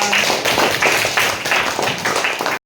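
Students in a classroom give a round of hand clapping: loud, continuous, scattered claps from many hands that carry on steadily and then stop abruptly.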